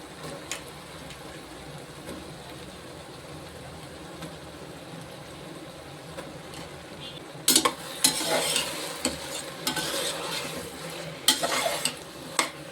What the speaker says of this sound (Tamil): இதை நல்லா அப்படி போட்டு கிண்டி விட்டுக்குருவோம்